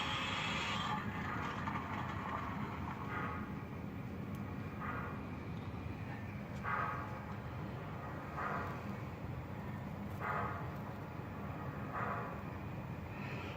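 An MTH Southern Pacific GS-6 4-8-4 #4460 model locomotive pulls an 8-car Daylight passenger set around the track, a steady low rolling rumble with evenly spaced rhythmic clicks as the cars pass over rail joints.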